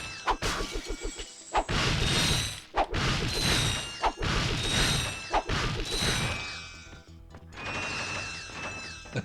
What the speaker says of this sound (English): you destroy a lot of crates at once